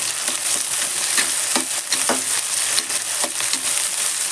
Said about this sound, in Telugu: ఈ ఉల్లిపాయలు వేగాలి కదా